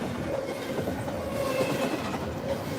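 A CN freight train hauled by an SD70M-2 locomotive rolls past, a steady rumble of railcars with clickety-clack wheel beats and faint wheel squeal, fairly distant and continuous.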